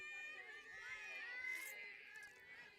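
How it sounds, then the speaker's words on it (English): A high school varsity softball team's bench cheering loudly for their catcher at the plate: high, shrill voices yelling and chanting together in a sustained, wavering roar from the dugout. "Noisy bench for Franklin, cheering on their catcher at the plate, Marley Allen."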